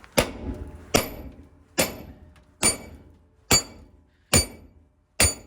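Seven sharp metallic hammer blows ring out at a steady pace, striking a truck wheel hub to remove it, each a loud clanging strike on heavy metal with a short ringing decay.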